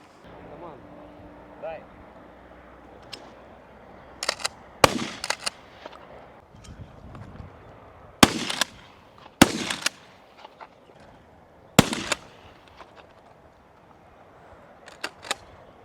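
Several loud, sharp blasts from a Winchester shotgun ring out irregularly, a few seconds apart, with people talking between them.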